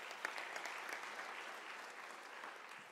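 Graduation ceremony audience giving a round of applause in a large hall, steady dense clapping from many hands throughout, somewhat distant and even in loudness.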